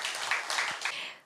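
An audience at a book concert applauds an author, a brief, fairly faint patter of clapping that fades out quickly.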